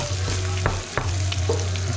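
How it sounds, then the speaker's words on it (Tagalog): Tomatoes stirred into bottle gourd (upo) sautéing with ginger in a pan: a steady close frying sizzle with a low hum underneath and a few sharp scraping stirs breaking through, no talking. "at ihahalo naman natin yung kamatis"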